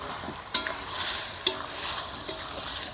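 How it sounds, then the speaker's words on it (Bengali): Bamboo shoot and dried fish being stirred in a hot pan, with a constant sizzle broken by three sharp scrapes of the spoon against the pan. "কষিয়ে নেওয়া বাঁশের মধ্যে ভাজা শুটকিগুলো দিয়ে দেব"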